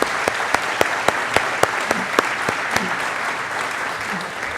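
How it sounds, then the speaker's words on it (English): Audience applause at a company's 70th anniversary event, with a dense crowd of clapping punctuated by a few sharp, distinct claps standing out near the microphone in a steady rhythm. "So please, I'd like to applaud Jim for his leadership."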